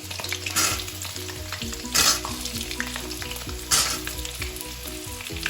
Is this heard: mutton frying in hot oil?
yes